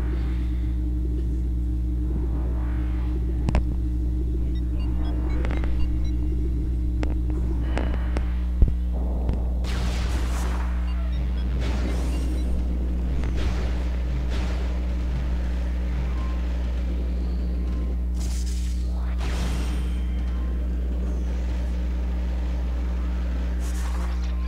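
A long elevator ride in Metroid Prime, carried by a steady, loud, low mechanical hum with a throbbing drone that runs unbroken, joined by occasional soft whooshes and faint clicks.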